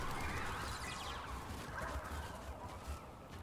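Birds call in the Outriders video game demo, a strange warbling, gobbling cry that rises and fades over a low rumbling backdrop, with no talk.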